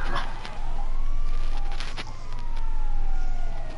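Police car sirens wail loudly while chasing an ambulance in a GTA video game, with up-and-down siren tones sweeping continuously and a rumbling engine underneath.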